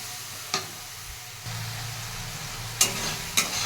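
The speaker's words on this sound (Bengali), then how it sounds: "ভালো করে কষিয়ে নেবো।" Spice paste sautéing in a pan, a low steady sizzle with a few sharp scrapes of the spoon against the metal, close and alone without voices.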